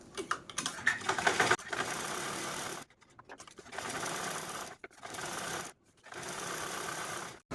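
A sewing machine stitches the lining of a fabric purse in three steady whirring runs, each broken by a short pause, close and alone with no talking.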